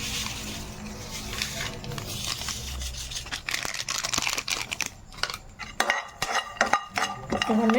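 Whole spices, cinnamon, cloves, cardamom and poppy seeds, fry in a pan while a spoon stirs them, giving close scraping and clinking strokes over a soft sizzle.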